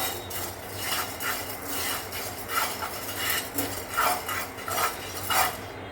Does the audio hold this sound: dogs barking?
no